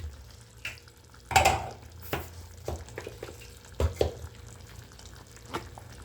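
A spoon stirs sardine curry in a cooking pot, giving intermittent scrapes and soft clinks with a faint sizzle, close and moderately loud, with no talking.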